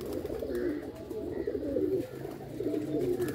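Pigeons cooing on a rooftop loft, soft repeated throaty coos from a nearby flock of homing pigeons, continuous and fairly quiet with no talk.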